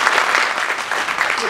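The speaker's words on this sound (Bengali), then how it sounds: "স্যারের জন্য একটা হাততালি।" An audience applauds at a motivational speech event, a short burst of dense, close clapping that fills the moment at full loudness.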